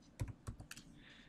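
Quick keypresses on a graphing calculator keypad, three short clicky clusters close by and fairly quiet, with a faint hiss trailing after.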